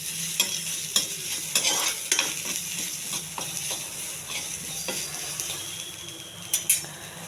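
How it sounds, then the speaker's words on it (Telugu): Salt and mustard seeds fry in a pan with a steady, close sizzle, punctuated by repeated sharp clicks of a spoon stirring against the metal at irregular intervals, with no speech. "ఆ ఉప్పు పెనంలోనే వేగించాలి"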